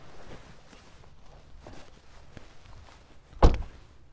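The electrically operated door of an electric car opens. Faint shuffling gives way to a single sharp, solid thunk near the end, close and distinct, with no talking.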